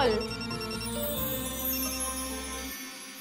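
A phone rings with a melodic ringtone for an incoming video call during a Marathi TV serial scene. It is a steady, tuneful electronic pattern at moderate volume that cuts off near the end, with no talking.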